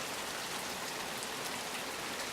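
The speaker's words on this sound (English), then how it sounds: "today it's pouring rain" Heavy rain pours down outdoors, a steady dense hiss of drops that holds evenly throughout, with no voices over it.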